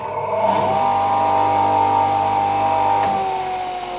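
A Stark TC 1260-250 electric tile cutter runs after being switched on, its motor giving a steady loud whine and hum throughout with no talking.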